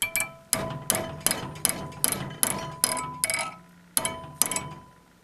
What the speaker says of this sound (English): so I can hammer this over to make my 90 degree